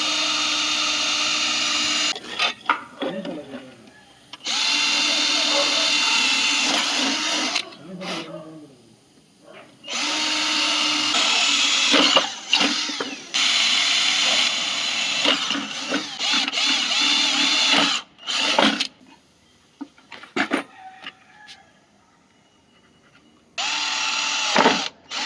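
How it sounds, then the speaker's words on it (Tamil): A power drill boring holes into a wall to mount a submeter electric board, loud whining bursts of several seconds each broken by pauses, with someone speaking in some of the gaps. "இப்படி நான் ஓட்டை போட்டு எடுத்துக்கிட்டேன்"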